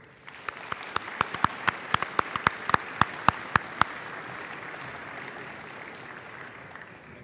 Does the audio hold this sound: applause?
yes